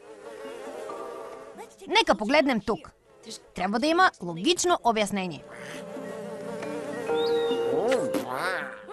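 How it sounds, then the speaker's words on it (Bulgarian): Flies buzz in an animated cartoon, a steady insect drone running under a voice speaking Bulgarian, with whiny buzzing rising and falling near the end. "Кой е чувал за мухи с уши и откъде са ги взели?"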